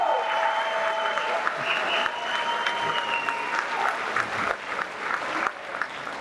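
Sustained applause at a graduation ceremony: a crowd claps steadily for several seconds, with cheering voices and some talk mixed in.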